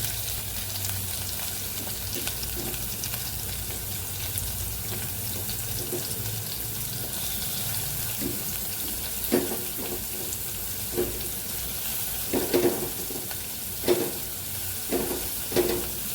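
Chopped onions sizzle and fry in a pan for a ridge gourd curry, a steady hiss with occasional louder scrapes and clinks as they are stirred, close and without talk.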